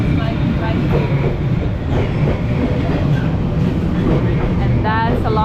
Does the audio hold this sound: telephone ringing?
no